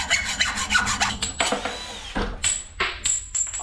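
A saw cuts through tubes during a lightweight bicycle build, making quick, rhythmic back-and-forth rasping strokes up close. A brief pause and a few scraping sounds break up the strokes, and no one speaks.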